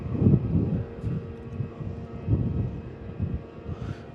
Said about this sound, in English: A330 just taxiing in front of us